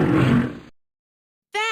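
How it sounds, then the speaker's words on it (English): A cartoon lion in an animal-name matching game gives a single loud, close roar that fades out, followed by a short tonal sound after a pause. "Lion."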